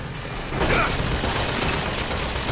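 Rapid gunfire in BioShock Infinite aimed at the player, a dense, loud crackling barrage blending with game noise throughout.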